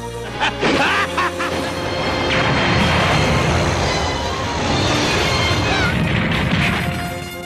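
A huge rumbling blast with crashing debris in the Dragon Ball Z anime rolls on for several seconds, loud and dense, preceded by a few quick sharp hits.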